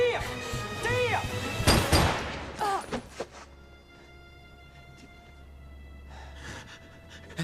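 Gunfire in a chaotic action scene, with a loud sharp shot burst amid shouting and gasping voices, followed by a few fainter scattered cracks against a low rumble.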